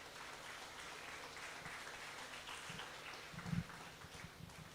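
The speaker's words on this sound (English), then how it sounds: "So, one round of big applause for Dr. Abul Hasan sir." An audience at a medical conference claps in a sustained round of applause, a dense even patter of many hands that stays moderate throughout, with a few louder claps near the end.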